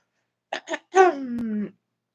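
A single person clears their throat with a couple of short rough bursts, then a longer voiced rasp, close and fairly loud.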